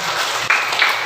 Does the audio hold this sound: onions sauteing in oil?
no